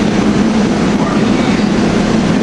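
A SEPTA regional rail train, number 3722 from Elwyn bound for Chestnut Hill East, pulls out of Suburban Station, a steady loud rumble of wheels and carriages filling the platform throughout.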